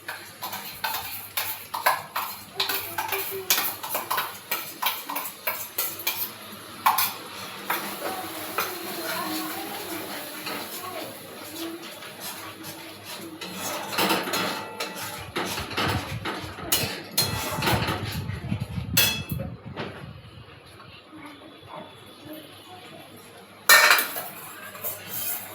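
Whisked sour yogurt goes into a pan for a home-cooked Bengali dish, followed by a run of metal spoon scrapes and clinks against the pan, fairly quiet with some handling knocks and a sharp clatter near the end.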